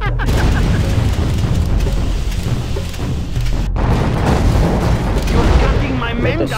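A bomb explodes in the video game C&C Generals, heard as a loud, sustained deep rumbling boom that fills the whole stretch, with a brief drop-out partway through before the roar resumes.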